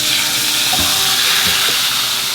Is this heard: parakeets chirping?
no